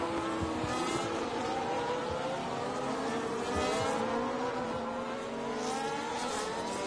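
McLaren and Alpine race cars in a racing game at Belgium, engines whining high and buzzing as they run side by side down a straight, a steady layered drone with rising pitch, moderately distant.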